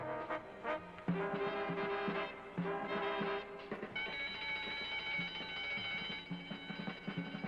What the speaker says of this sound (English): Come on, the alarm!